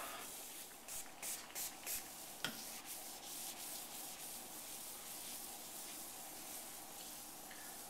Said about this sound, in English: when you find more residue, scrape it off